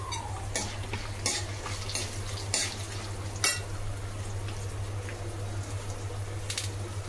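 Asafoetida hits hot oil while tempering, giving a steady loud sizzle with a few sharp clicks of a spoon stirring the pan.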